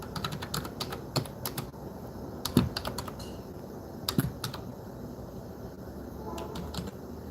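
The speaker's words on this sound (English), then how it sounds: "I'm typing it right now." Rapid clicking keystrokes on a computer keyboard, close and fairly loud, in irregular bursts with a couple of heavier key strikes, alone without talk.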